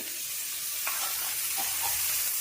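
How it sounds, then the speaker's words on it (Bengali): Tomato frying in a pan with ginger and spices being stirred in, a steady close sizzle under light stirring scrapes, with no voices. "টমেটো আমার ভাজা হয়ে গেছে, এবার আমি একে একে সব মশলাগুলো দিয়ে দেব"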